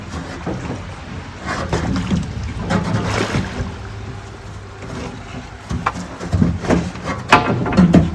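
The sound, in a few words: barge with stone pushed into a sluice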